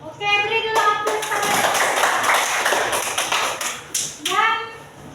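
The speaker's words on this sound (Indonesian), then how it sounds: "Oke, beri dulu aplaus." Primary schoolchildren clap in a classroom, a dense burst of many small hands lasting a few seconds, with children's voices and chatter mixed in.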